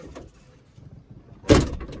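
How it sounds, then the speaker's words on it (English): A car door is pushed closed but fails to latch, producing a short dull thud near the end after quiet rustling. "But now when I try to close the door"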